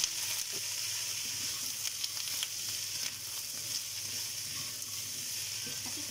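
Celery stir-frying in a hot pan, cooked with prawns and cashew nuts: a steady, close, loud sizzle runs throughout, with faint clinks of stirring.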